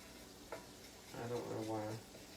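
A low sizzle of oil browning in a pan for tomato gravy, faint and steady, with a voice briefly sounding over it partway through.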